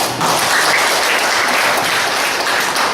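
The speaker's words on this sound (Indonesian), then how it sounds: "Tepuk tangan untuk perempuan." Loud, dense applause fills the room at a workshop on turning waste into saleable products, a continuous wash of many clapping hands with no voices over it.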